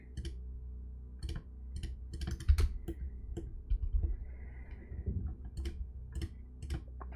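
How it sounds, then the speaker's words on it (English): Sharp clicks picked up by a microphone, scattered irregularly through the stretch, some close and crisp, others faint, over a steady low hum with no talking. "But you can still hear the clicking noises"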